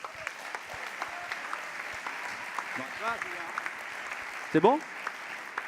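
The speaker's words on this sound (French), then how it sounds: "On peut t'applaudir, Pierre-Yves." A political party meeting audience applauds, steady moderate clapping throughout with scattered voices, and a short spoken question rising near the end.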